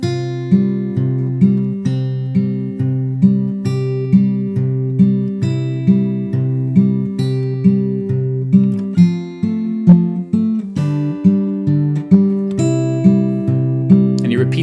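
A melody is fingerpicked on acoustic guitar over an alternating bass. Plucked notes ring steadily and evenly in a moderate rhythm, played solo, close and clear, with no talking.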